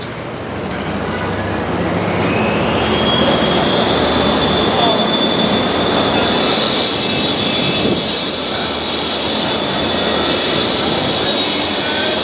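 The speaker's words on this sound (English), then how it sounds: "you're by the train tracks, so say you're gonna hear trains" A train rolls past on tracks beside a hotel in Harlem, New York City, a steady close roar with a rising high whine or squeal, loud throughout and partly covering a voice.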